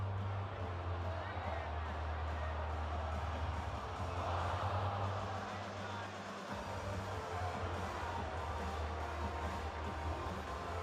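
An arena crowd at an ACC men's basketball game, North Carolina vs. Pitt, cheers for a full court shot attempt: a continuous, dense roar and babble of many voices that swells briefly midway, with a low steady hum beneath.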